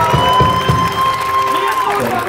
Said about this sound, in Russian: Дайте аплодисменты им